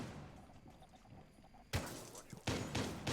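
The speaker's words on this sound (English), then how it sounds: "More gunshots." Several sharp gunshots crack out in a college Rainbow Six match, loud bursts arriving in the second half after a quieter stretch of game ambience.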